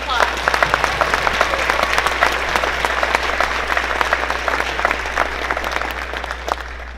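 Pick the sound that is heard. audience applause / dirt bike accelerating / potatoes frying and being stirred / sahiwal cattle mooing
audience applause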